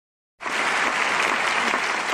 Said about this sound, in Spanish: Esta es una audiencia en Budapest aplaudiendo luego de un espectáculo